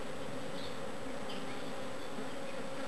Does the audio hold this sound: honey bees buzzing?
yes